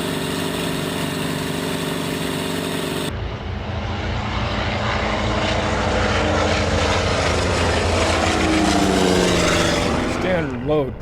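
Piston engine of a Douglas Skyraider warbird, Kennett Aviation's Korean War aircraft, heard from the cockpit as a loud steady propeller roar, with a sharp change in tone after about three seconds and a rising, wavering pitch near the end.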